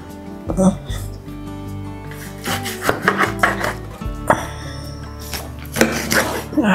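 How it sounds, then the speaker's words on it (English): Knife cutting pork ribs into smaller pieces on a wooden board, irregular thuds and chops with scraping and clinks, mixed with background music and a person talking. "meat is prepped and cut in a smaller pieces"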